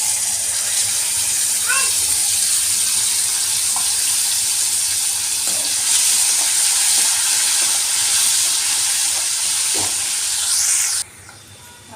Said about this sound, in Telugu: ఇప్పుడు చింతపండు కూడా యాడ్ చేసుకొని బాగా అనేది కలుపుకోవాలి ఆయిల్లో.